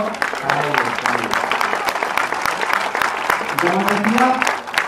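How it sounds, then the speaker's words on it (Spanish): Crowd applause for a municipal music school at a neighbourhood festival in Alcorcón, with steady clapping running throughout and voices talking and calling over it. "que tenemos un lujo en esta ciudad y que merece un aplauso para ellos también."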